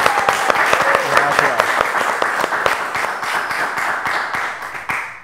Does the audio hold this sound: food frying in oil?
no